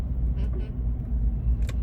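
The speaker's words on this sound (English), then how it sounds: "There's a car randomly driving." A car drives past on a residential street in the Arlington area of Jacksonville, Florida, giving a steady low engine and road rumble throughout, with a voice faintly present.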